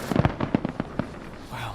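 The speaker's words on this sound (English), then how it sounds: "she can make a firework display for his birthday" A fireworks display in a horror video game bursts in a rapid run of about eight crackling pops over a second, followed by a fading hiss, loud and close with no speech.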